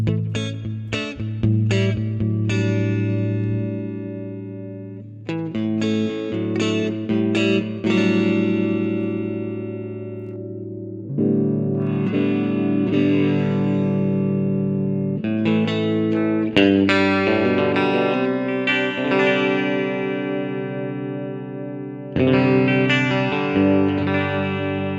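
An electric guitar plays clean through a Twin amp model in the GigFast Mobile app, with quick strummed chords, then longer ringing chords with sustained bright tone and short gaps between phrases.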